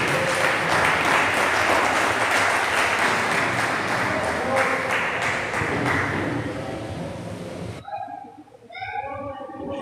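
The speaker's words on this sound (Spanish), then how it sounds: "Dale ese aplauso fuerte al Señor." Church congregation at an evangelistic Spanish-language service claps loudly in a dense, sustained wave for about eight seconds, then the applause cuts off abruptly and a voice speaks over a quieter room.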